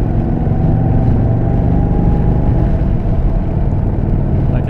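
An Indian Chief motorcycle fitted with a 17.8 inch screen rides at about 100 km/h into a headwind on a test ride, giving a loud, steady engine drone with rushing wind. No one speaks.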